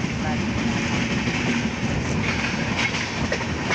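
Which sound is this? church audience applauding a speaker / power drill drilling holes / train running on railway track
train running on railway track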